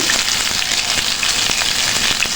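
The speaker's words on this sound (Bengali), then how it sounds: "আমি বেগুনগুলোকে টমেটোগুলোকে ভেজে নিচ্ছি আমি তার সাথে কয়টা রসুনের কোয়া দিচ্ছি" Eggplant and tomato pieces fry with garlic cloves in hot oil, a steady dense sizzle with faint crackles, close and continuous throughout, no voices.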